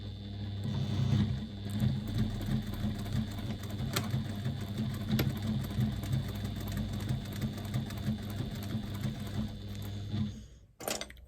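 A sewing machine stitching binding onto a bag runs steadily, its rapid mechanical chatter close and continuous for about ten seconds before stopping abruptly.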